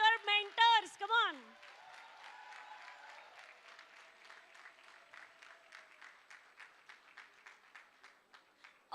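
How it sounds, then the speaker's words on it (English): An auditorium audience at a convocation ceremony claps, a loud voice on a microphone first ringing out over it, then the applause continues alone as a light, fading patter of separate claps. "Can we have a big round of applause for everyone here, faculty members, staff, everyone."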